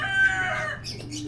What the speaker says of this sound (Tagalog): Bukod sa manok, ayun, oh.